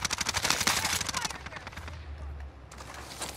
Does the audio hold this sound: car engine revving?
no